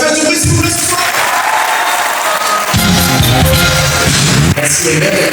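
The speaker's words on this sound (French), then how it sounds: "faire venir David Seul sous un tonnerre d'applaudissements" A studio audience applauds and cheers as David is welcomed on stage, a loud continuous wash of clapping and crowd noise running through the whole stretch with a few voices rising above it.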